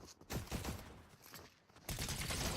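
A submachine gun fires in a video game in two rapid sustained bursts of dense automatic shots, separated by a brief lull, loud and continuous.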